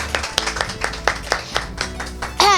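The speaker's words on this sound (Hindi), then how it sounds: "आपकी भरपूर तालियों में" Audience clapping at a bridal beauty competition held in a beauty salon, a loose, irregular patter of hand claps from a small crowd that swells briefly near the end.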